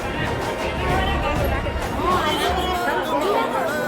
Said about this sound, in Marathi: बघा गर्दी.